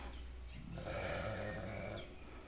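A nine-month-old Arashan breed ram lamb gives a single drawn-out bleat, clear and fairly close against a quiet low background hum.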